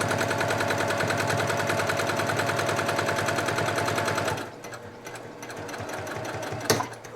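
A sewing machine stitches a placemat seam with a fast, even, loud mechanical rattle for about four seconds, then stops, leaving soft handling noises and a click, with no talking.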